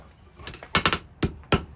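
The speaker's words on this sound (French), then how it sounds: "Donc moi je tape, vous allez voir, je tape avec le coin du marteau" A hammer corner strikes metal while forging crossbow bolt heads in experimental archaeology: several sharp metallic blows in an uneven rhythm, including a quick double strike, close and crisp with brief ringing after each hit.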